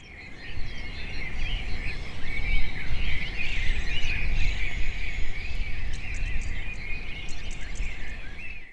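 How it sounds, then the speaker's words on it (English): Wild birds calling over a Louisiana coastal wetland, a continuous chorus of high chirps and tweets with insect-like buzzing over a low rustling background, moderately distant and steady. "These birds are a soaring sign of health, not just for the bird population"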